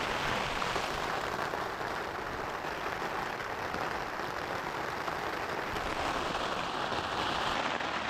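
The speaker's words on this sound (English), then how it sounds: "the rain is back" Rain patters steadily on a tent pitched on flat ground along a Skye hiking trail, a dense constant drumming hiss that stays loud and close without a break.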